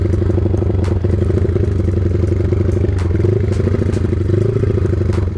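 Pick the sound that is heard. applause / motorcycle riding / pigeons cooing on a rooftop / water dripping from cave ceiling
motorcycle riding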